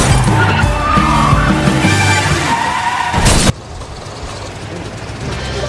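A traffic accident involving several passing cars in the 2019 film Extreme Job: loud, dense skidding and crashing noise that cuts off abruptly into a quieter rumbling background.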